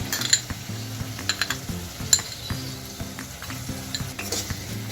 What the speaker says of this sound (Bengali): দিয়ে আমি একটু ভালো করে কষিয়ে নেব।